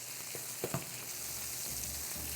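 Onions hit hot bacon fat in a pan and fry with a constant close sizzle and crackle, a couple of soft knocks early on, and no one speaking.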